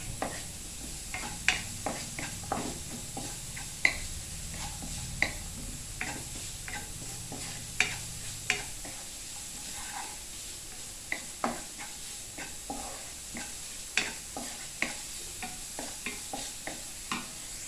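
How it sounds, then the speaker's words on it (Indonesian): Smoked beef and onion stir-fried in a pan sizzle steadily, with frequent light clicks and taps of a utensil stirring against the pan throughout. "smoked beef, ditumis sampai layu tercium harum aromanya."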